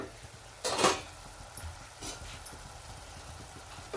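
Masala cooks in oil in a covered pan, a low steady sizzle with a louder clatter near the start and a softer knock later, close and fairly quiet, with no talking.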